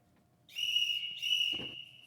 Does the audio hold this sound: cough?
no